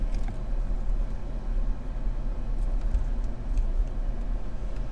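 A Jeep crawls up a fairly steep incline in first gear, a low, steady engine rumble with road noise from inside the cabin, fairly quiet and unbroken.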